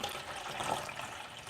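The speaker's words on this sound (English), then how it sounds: "So I just put the water in." Water, a half-and-half mix of filtered and station water, being poured into the tank of a Breville Barista Pro espresso machine, a steady close splashing trickle that swells slightly in the middle.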